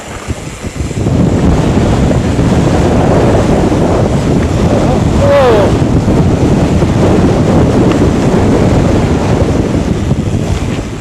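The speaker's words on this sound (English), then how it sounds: "Oh, the wind." Heavy wind roars steadily across the microphone during a mountain bike ride around Wellington, a loud continuous rush, with a brief voice breaking through midway.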